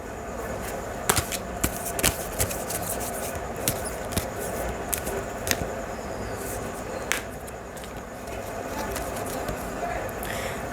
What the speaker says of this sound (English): I will shuffle another card for you from my crystal deck